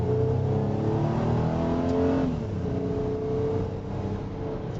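Car with an automatic transaxle pulling hard at wide open throttle, its engine note climbing steadily then dropping sharply at the shift from first into second gear before rising again, loud and continuous.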